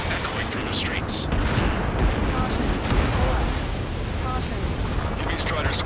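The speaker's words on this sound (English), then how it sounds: "Gunfire and the roar of jets echoing through the streets." Dense, continuous rumbling bursts of gunfire and jet roar fill a city under martial law in the Ace Combat 7 video game, loud and unbroken throughout with distant crackling layered over a heavy low drone.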